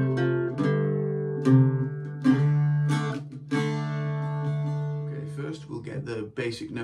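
An Irish bouzouki plays a phrase of The Foggy Dew, with a run of plucked notes ringing over steady low drones and the final notes fading into softer string noise.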